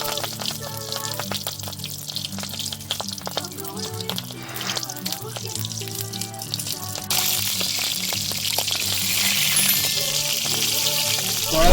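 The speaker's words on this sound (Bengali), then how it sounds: "আমরা এবার পাতুরিগুলো ভেজে নেব।" Hilsa paturi wrapped in banana leaf frying in hot oil in a kadai, a close, steady sizzle that grows louder and fuller as the frying picks up, with clinking and scraping in the first half.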